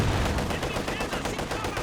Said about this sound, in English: T-34 had a main gunshot there, that could have been it.